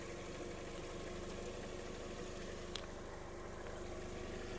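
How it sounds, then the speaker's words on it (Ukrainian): A 2005 Volkswagen Golf Plus 1.6 MPI engine idles steadily with an even, low mechanical hum and faint rhythmic ticking, quiet and unchanging throughout. "Мотор працює тихо, рівно, не димить"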